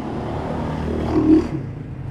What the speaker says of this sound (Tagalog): Diba ang ingay ng mga tricycle na mga sasakyan